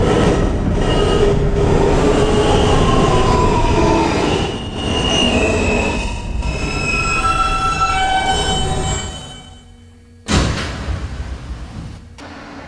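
An R160 NYC subway car on the N local runs between stations, its loud rumbling roll layered with whining, squealing wheel tones that fade as it slows, then a sharp burst of noise returns.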